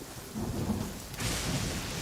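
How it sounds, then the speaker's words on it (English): Rain and thunder in the game Genshin Impact: a steady wash of rainfall, with a deep rumble of thunder swelling midway and a brighter burst of downpour after it, no voices. "This rain ain't clearing anytime soon"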